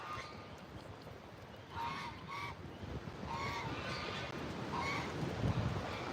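Geese honking at an animal sanctuary, several calls spread across the clip at moderate distance over steady wind noise.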